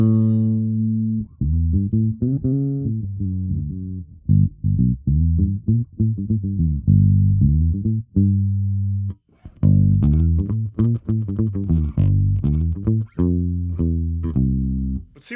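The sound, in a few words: Squier Paranormal Rascal HH bass played with a pick, bridge pickup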